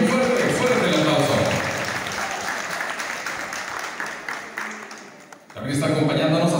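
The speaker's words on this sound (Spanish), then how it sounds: "Y también le brindamos fuerte, bien fuerte, fuerte el aplauso." An evening pageant audience applauds a guest, the clapping dense and sustained before fading, and a voice speaks over it near the end.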